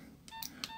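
A few short mobile phone keypad beeps sound in quick succession, faint and clean, with a quiet background hiss.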